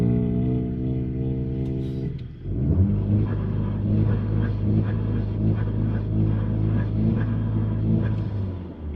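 A car with traction control switched off revs and accelerates hard on a city street at night, a loud close engine drone that dips at about two seconds, then climbs through a rough, pulsing rumble.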